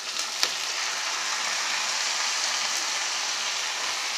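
Onions and curry leaves sautéing in a pan for tomato rice, a steady close sizzle with a light tap at the start, no one talking.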